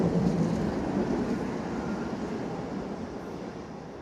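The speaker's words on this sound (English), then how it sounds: "It's just a boring fucking train." Train crossing a bridge in Belfast rumbles past steadily in a broad, continuous roar that fades slightly toward the end, with no talking over it.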